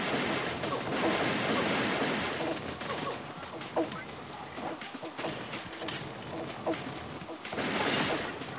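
Pistol gunfire from the mobile shooter Pixel Gun 3D crackles in dense, rapid bursts that thin into scattered shots midway, then build again near the end.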